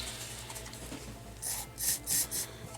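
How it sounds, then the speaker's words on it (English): Several short rasping rubs of a cloth working wood cleaner into a gummy, residue-coated fretboard on a 1992 Jackson Stealth guitar, four soft strokes in the second half over a quiet room. "This fretboard is pretty gummy with some residue here. I'm going to try to clean it up with a little wood cleaner."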